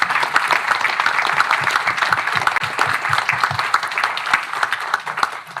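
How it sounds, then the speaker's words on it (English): Audience at a university honorary doctorate ceremony applauds a student choir from the Frédéric Chopin Music University, sustained dense clapping from a large hall crowd for nearly six seconds, with a few sharp claps close by. "Please, one more huge applause for them."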